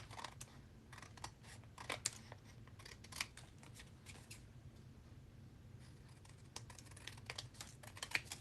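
Scissors snip through white cardstock in quick, sharp, uneven clicks and crunches, close up and fairly quiet, with no one speaking.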